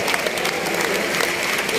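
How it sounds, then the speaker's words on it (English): Church congregation clapping and applauding together, a dense, steady wash of many hands filling the room from start to finish with a faint crowd murmur beneath. "a big shout to the Lord. And a clap unto him as well."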